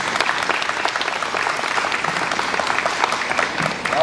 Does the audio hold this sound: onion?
no